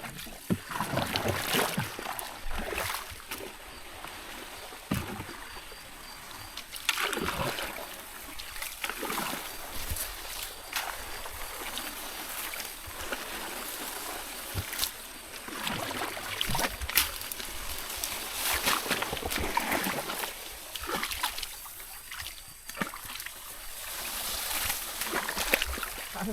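Water sloshes and splashes in a steady, uneven rhythm as paddles dip beside a small boat, with faint voices now and then.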